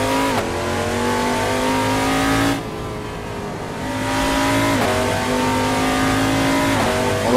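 Prototype race car engine, an LMP2 or LMP3 in a Duquesne VR racing game, revving loudly through climbing gear changes, with a brief lift near the middle before it pulls hard again, alone with no talk.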